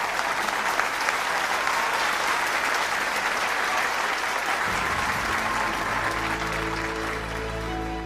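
Large audience applause thanking a traditional Korean singer and a former minister for their stage performance at a big peace rally, steady dense clapping throughout, with a low sustained musical tone entering partway through.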